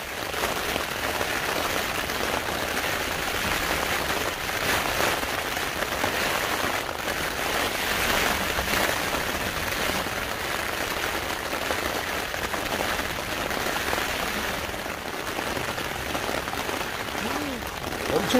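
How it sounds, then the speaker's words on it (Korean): Heavy wind-driven rain lashes a backpacking tent on a mountain during a rainy-day hike, a dense, loud, continuous patter drumming on the fabric with gusting surges throughout. "비바람이 상당히 몰아치다 보니까 벤틀레이션 쪽에서 빗방울이 튀어서 들어오네요."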